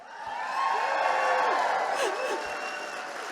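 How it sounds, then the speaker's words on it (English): A political party convention crowd applauds and cheers together, with whoops rising above steady dense clapping that swells and then eases slightly, heard from within the hall. "stand up and give yourself a cheer"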